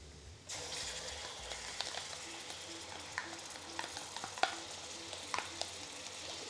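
Tomato paste fries in a hot pan for a lamb curry, giving a steady close sizzle with repeated scraping stirs and small ticks and clicks, starting abruptly after a brief quiet moment.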